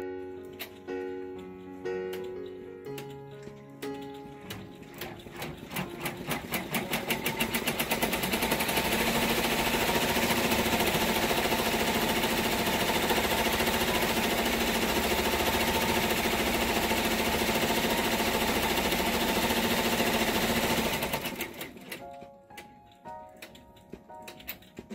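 An embroidery machine stitching a felt learning-wheel toy in the hoop runs a rapid, even mechanical ticking that builds up, holds loud and steady for most of the clip, then stops.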